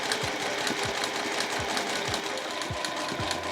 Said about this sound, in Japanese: 家庭用ミシンの場合はですね、押さえの端を活用してそのまままっすぐ縫うこともできますので